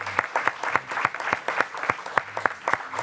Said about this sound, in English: I just think we should give them a round of applause out there.